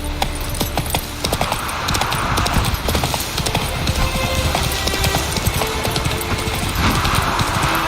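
Horse hooves clip-clopping on a street in The Witcher 3 video game, a steady rapid rhythm of hoofbeats close up over ambient game sound.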